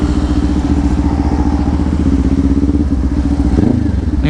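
A 2024 Kawasaki Ninja 500 SE runs loud and close with a steady engine drone and a brief rev-matching blip near the end, all heard from the rider's position.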